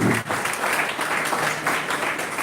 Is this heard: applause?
yes